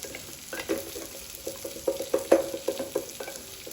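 Stirring yogurt into a jowar methi gravy in a pot on the stove, with a spoon scraping and swishing in a steady series of short strokes, close and fairly quiet, with a faint sizzle underneath and no talking.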